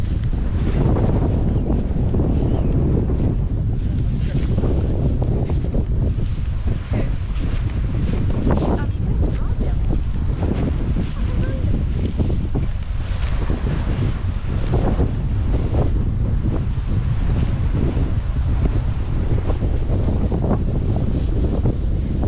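Strong coastal wind on Fraser Island (K'gari) buffets the microphone in a loud, continuous roar with gusty surges, heavy rumbling that persists throughout and masks any other sound.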